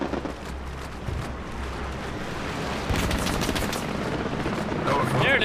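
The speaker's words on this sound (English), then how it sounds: "I can hear that machine gun." Machine gun fire rattles in the World War II shooter game Hell Let Loose, a dense ongoing crackle of bursts in the distance that grows louder partway through, with someone talking over it at times.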